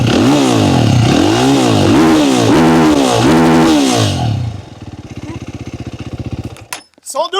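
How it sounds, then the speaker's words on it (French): Racing quad engine at a French championship meet revs hard in repeated rising and falling surges while warming up, then drops to a rough, loping idle before cutting out. "les moteurs montaient pas suffisamment en température donc du coup Leslie est parti le faire chauffer"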